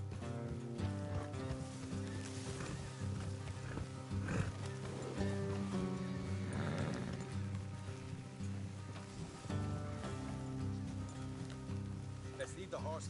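In a video game, Red Dead, horses' hooves clop along with a faint whinny, rain-like patter and music behind, and people talk over it.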